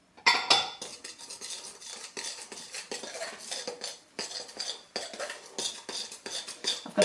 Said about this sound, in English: And we stir with our knife.